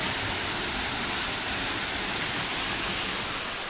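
Kotaki Medaki waterfall, part of the Kuroyama Santaki falls in Okumusashi, pours in a steady, dense, close roar of falling water with no voices.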